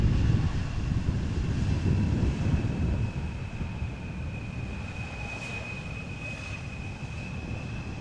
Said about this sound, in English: Embraer 175 arriving from Southampton